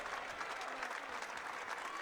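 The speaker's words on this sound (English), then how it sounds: "Round of applause." Spectators in a gym at a girls state basketball game applaud together. The clapping is a dense, even wash heard from some distance for about two seconds.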